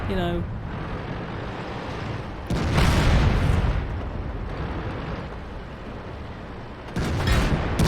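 Tank cannon fire in World of Tanks while playing the HT-15 heavy tank, with heavy booming blasts and a rumbling roar, plus a loud surge of firing near the end.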